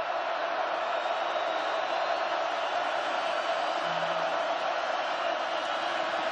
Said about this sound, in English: the Ducks defense asking this crowd to make some noise